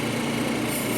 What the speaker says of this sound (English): You gotta machine or grind the top surface using also the 600.